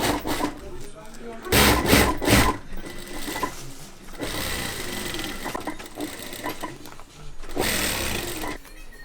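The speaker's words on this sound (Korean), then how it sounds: "원단에 그림을 그리고 재봉틀로 마무리합니다" Sewing machine stitching fabric Christmas leaves for a pudding mascot costume, running in several loud bursts with pauses, a steady mechanical whir heard close up.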